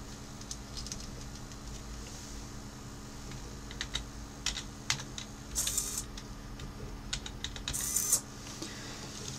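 Commands being typed on a computer keyboard to drive a six-channel servo interface, soft scattered key taps in short bursts over a low steady hum, quiet and close.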